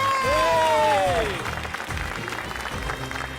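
Audience applause on a Tamil reality show set, steady scattered clapping that continues after a descending whistle-like tone at the start fades out.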